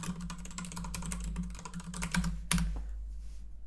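Rapid, uneven clicking of fingers typing on a computer keyboard, close and steady for about two and a half seconds, ending in a sharper tap before the keystrokes fade to quiet.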